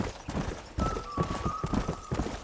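Horse hooves clip-clop in a steady rhythm while riding in the Red Dead Redemption video game, close and fairly loud, with a brief whinny and a sustained tone over the middle of the ride.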